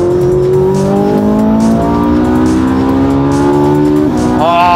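Ferrari 458 Italia V8 screams up toward its 9,000 RPM redline, loud and close, with the pitch rising steadily across several gears and a sharp step at the upshift before it climbs again, no talking over it.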